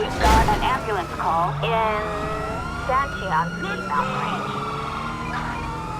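Emergency vehicle siren in the GTA V video game, modded with LSPDFR, arriving after an ambulance is called: repeated wailing and yelping sweeps, fairly loud, with a player talking over the siren.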